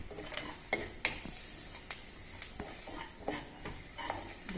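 Lemon rice stirred in a pan with a spoon, a string of soft scraping clicks and taps over a faint sizzle, close and quiet, with no voices.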